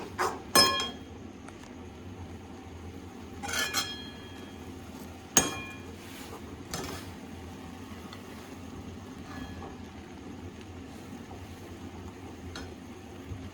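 Maggi noodles with masala stirred in a pan, giving a few close metallic clinks and scrapes of a utensil against the pan, spaced irregularly over a quiet background.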